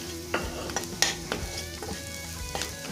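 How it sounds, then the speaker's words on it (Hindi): Ground spices with a little Kashmiri red chilli powder sizzle in hot oil for a spinach kofta curry, with steady frying hiss and several distinct stirring scrapes and clinks of a spoon against the pan. "इसको 1 मिनट के लिए हम भून लेंगे"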